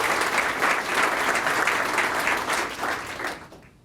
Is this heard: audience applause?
yes